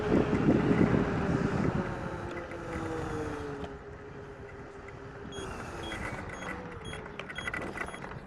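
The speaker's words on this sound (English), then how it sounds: "The beeping indicates that I'm turning." An iScooter i10Pro 800W electric scooter in sport mode gives off a steady turn-signal beeping while riding in strong wind, the beeps sitting faintly under heavy wind rumble.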